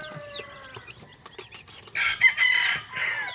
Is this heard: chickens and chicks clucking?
yes